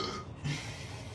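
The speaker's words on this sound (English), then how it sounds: "There's so many belches in this video." A person lets out a single close, throaty belch lasting about a second, with breathy noise around it and no speech.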